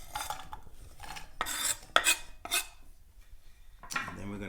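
Chopped onion scraped into a cooking pot, a run of close rasping scrapes and rubs of a utensil against wood and metal in uneven bursts, with no talking.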